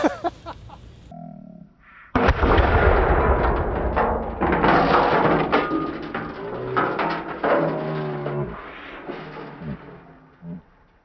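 Live ammunition cooking off inside a sealed ammo can in a house fire, with sharp crackling pops scattered over a loud roaring burn after a brief quiet start.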